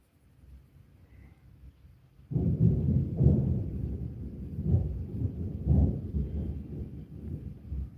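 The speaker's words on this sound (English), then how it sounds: "You can hear the thunder rolling in." Deep thunder rolls in during Tucson's monsoon season, a low rumble that swells suddenly after a quiet start and keeps rumbling with several heavier surges, fairly loud and with no voices over it.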